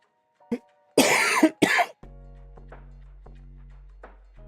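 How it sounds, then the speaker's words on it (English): A few sharp coughs, one short and then two heavy bursts close together, loud and close, followed by a low steady hum. "I don't know why I'm coughing so much."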